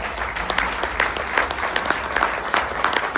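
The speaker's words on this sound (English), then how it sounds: "Please give them a big round of applause." Audience applause at the JACAP Music Awards ceremony, a steady dense clapping from a sizeable crowd filling the hall, continuous and fairly loud with no voices on top.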